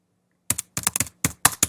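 Typing on a computer keyboard while entering text into an Excel spreadsheet: seven quick, crisp keystrokes in short irregular bursts, close and clear, with no voices.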